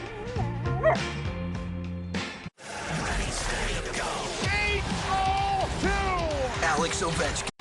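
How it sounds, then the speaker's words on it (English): A dog barks in sharp repeated yips and whimpering bow-wows, close and loud, layered over a busy mix of other sounds and voices. "Got a dog."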